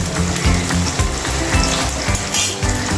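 Paneer being fried in a pan for a curry over a raised gas flame, a loud continuous oil sizzle with rhythmic scraping and stirring strokes of a spatula against the pan.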